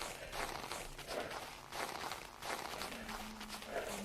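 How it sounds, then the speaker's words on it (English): Footsteps in the STALKER game Anomaly, a steady run of soft treads over a gritty ambient bed with a faint tonal hum, fairly close and continuous. "I love those Tarkov footsteps."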